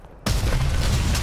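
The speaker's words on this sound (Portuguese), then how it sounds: "Bomba planadora aliada a caminho." An allied glide bomb explodes in Call of Duty: Vanguard, a sudden loud, broadband blast that bursts in after a quiet moment and rumbles on heavily to the end.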